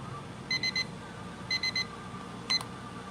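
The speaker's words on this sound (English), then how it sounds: "After the buzzer, right there." Electronic buzzer at a Friday night knife auction: two quick bursts of three sharp beeps a second apart, then a single beep, standing out over a low room hum.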